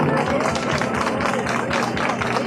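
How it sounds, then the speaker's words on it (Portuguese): A crowd at an outdoor political rally protesting PL 2630 in Brazil breaks into dense, sustained applause, a steady wash of many hands clapping at once, loud and continuous. "uma salva de palmas para o nosso irmão"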